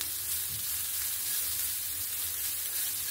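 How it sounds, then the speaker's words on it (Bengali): Grated carrot frying and being stirred in a pan with onion for a semolina and potato breakfast dish, making a dense, even sizzle that stays close and constant, with no voices. "গাজরটা যে গ্রেট করে রেখেছি সেটা দিয়ে দেব। এটাকেও হালকা নেড়ে ছেড়ে নেব।"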